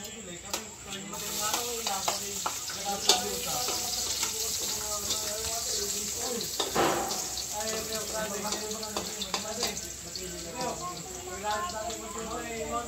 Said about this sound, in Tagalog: Gigisa na po ni RJ.